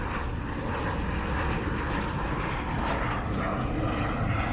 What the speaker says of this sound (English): Oh, look, an airplane.